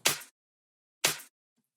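Two sharp drum-machine claps for an electronic dance track, spaced about a second apart, each a crisp burst with a short tail, alone against silence.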